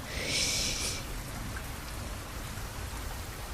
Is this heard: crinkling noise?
no